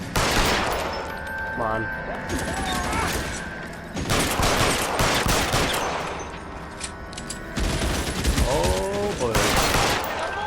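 Video-game gunfire from L.A. Noire: loud bursts of rapid shots and fusillades echo through a shootout, with a voice calling out briefly amid the firing.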